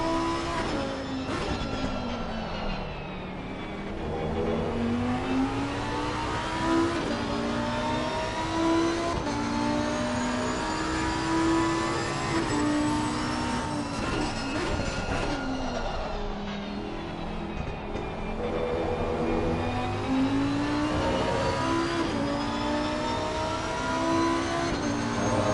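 Race cars circle the Nurburgring in a PS5 sim race, a Porsche among them, engines droning loud and steady with rising and falling pitch as cars pass through gear changes, no talk over the close, continuous roar.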